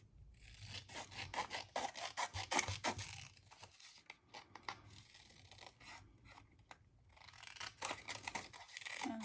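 Scissors cutting out paper mushroom shapes for a craft: repeated crisp snips and papery rustles in uneven bursts, close by, with a short pause midway before the cutting resumes.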